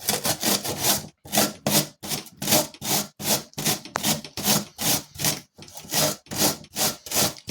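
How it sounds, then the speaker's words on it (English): An onion grated on a hand grater, about a dozen rhythmic back-and-forth rasping strokes, each a bright scrape separated by short pauses, close and loud with no talking. "I'll take the onion and I'll just glide the onion, take a bit off there, just glide the onion across."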